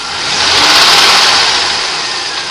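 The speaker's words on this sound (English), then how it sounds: "we're going to take a listen to that piston knock and see how much worse it's gotten" A 1989 Oldsmobile Cutlass Supreme engine with a piston knock runs steadily and close, a broad, loud mechanical roar that swells and eases slightly, with no talking over it.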